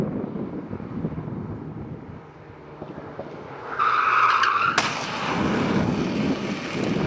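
Alpine A110 S (2023) tyres skidding through a moose-test lane change, the rear axle sliding slightly; a loud squeal rises midway over steady engine and wind roar, then breaks into broad rushing tyre noise.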